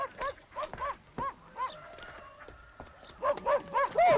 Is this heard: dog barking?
yes